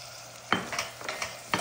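Foul medames with tomato stirred in a hot pan, giving a low sizzle broken by several close scraping strokes of a spoon across the pan, spaced about every quarter second.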